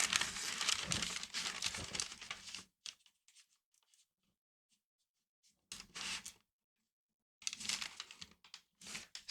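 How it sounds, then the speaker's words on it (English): Origami paper folded along grid lines gives bursts of close crinkling and creasing, separated by quiet pauses, with no talking. "So we're going to fold up 7 grid units like that."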